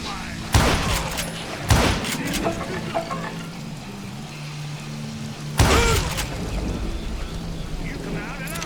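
Gunfire from Call of Juarez: Gunslinger, a Western shooter: loud sharp shots crack out near the start, another soon after and a third later, each with a rolling echo over a steady game ambience and soft talk.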